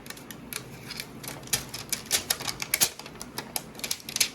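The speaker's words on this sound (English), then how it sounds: "Now it's time to take the plastic out the GPU." Protective plastic film being peeled off a graphics card in a white PC build, giving a run of quick crackling, ticking snaps that grow denser and louder toward the end, close up with no talk.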